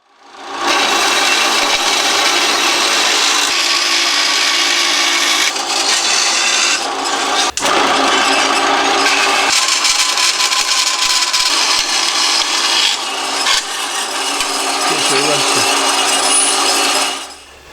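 Bandsaw cutting metal plate for a Kawasaki bobber motorcycle build: a loud continuous grinding rasp that holds steady for most of the cut, briefly dips partway through, then stops, close and without talk.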